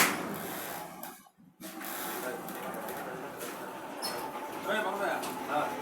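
An automatic machine making sugar from sugarcane runs with steady, busy mechanical clattering and rumble, while someone talks over it throughout.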